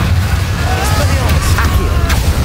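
Confringo spell blasts in the game Hogwarts Legacy go off amid a dense, loud wash of combat noise, with a few sharp bursts and crackles standing out.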